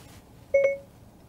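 A short electronic tone sounds once as the steering-wheel talk button is pressed to start Siri through Apple CarPlay in a Hyundai, a clear two-step beep standing alone in a quiet cabin.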